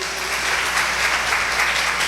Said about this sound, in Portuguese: Quantos pode dar um aplauso ao nome do Senhor Jesus?